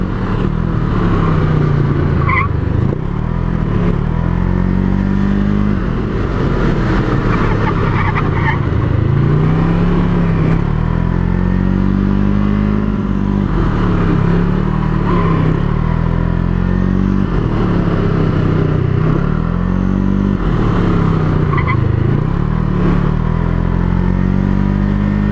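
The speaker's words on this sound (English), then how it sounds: "I don't think I've felt the three-wheeler in a full drift until earlier today." A Can-Am Ryker three-wheeler engine roars loud and close throughout, rising and falling in repeated revving surges with wind noise while the machine is drifted.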